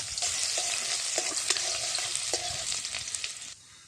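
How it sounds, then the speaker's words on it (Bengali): Chopped ginger frying in hot oil, a steady bright crackling sizzle with occasional sharper pops and stirring clinks, close and continuous before easing off at the end. "তেল গরম হয়ে গেছে, দিয়ে দিচ্ছি আদা কুচি।"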